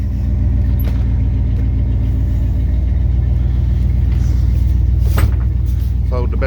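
A 1984 GMC Jimmy K5 4x4 idles loudly after a cold start, its V8-style engine giving a close, steady low rumble with a few clunks and rattles over the top.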